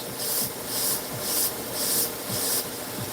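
Knife blade being sharpened against a grinder, with steady rhythmic rasping strokes repeating about every half second, a hissing scrape at a close and moderate level with no talking.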